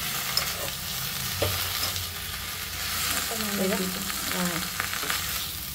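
Ajwain leaves fry in oil with a steady, soft sizzle, a low background crackle broken by a few faint clicks of stirring.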